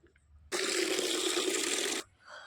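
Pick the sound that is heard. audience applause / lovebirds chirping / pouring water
pouring water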